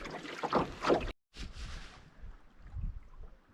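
A canoe is paddled on a lake in a wilderness setting, with soft splashing paddle strokes and water swishes under steady wind noise, close and fairly quiet, with a brief dropout early on.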